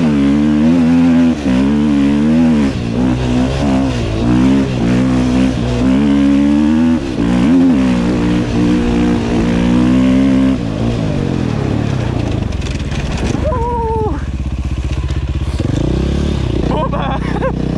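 A motorcycle engine revs hard and climbs through the gears on asphalt during a wheelie run, loud and close with wind buffeting, then eases off toward the end while someone talks in French over it.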